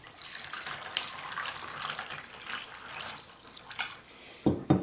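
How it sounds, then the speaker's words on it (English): Water runs from a kitchen tap into a bowl holding eggs and ice, a steady close splashing stream that stops near the end, followed by a couple of brief clinks. "and then some water."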